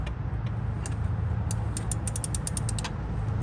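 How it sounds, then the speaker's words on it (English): A ratcheting 17mm socket wrench turning a bolt on a Honda Accord during a serpentine belt replacement, heard as a quick run of crisp, evenly spaced clicks over a constant low rumble after an opening stretch of scattered clicks. "I like to use a ratcheting socket because it makes it a little bit easier"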